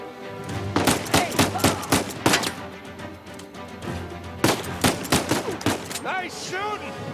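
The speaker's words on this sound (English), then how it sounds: "Nice shooting!" Gunfire in an Uncharted firefight, with sharp, loud shots fired in quick clusters, pausing briefly midway before another burst, then ricochet-like whines trailing off near the end.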